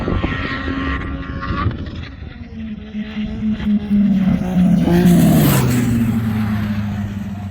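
A car with its turbo boost turned up accelerates hard, its engine note rising steadily into a loud, climbing rev close by, with a whistling whine joining in at the peak.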